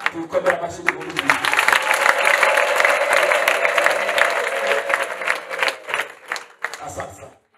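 Congregation applause during a church service, clapping building quickly and holding steady before thinning into scattered claps, with voices mingled in the crowd.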